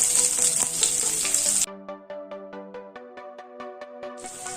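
Onions sizzle loudly in hot oil, the frying cut off by a stretch of plucked musical notes before the sizzle returns at the end.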